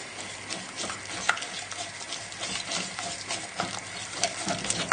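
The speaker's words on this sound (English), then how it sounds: "And then whisk and whisk and whisk." Batter for strawberry pancakes being whisked with milk, a steady brisk scraping and tapping of a whisk against a bowl that carries on without a break and with no talking.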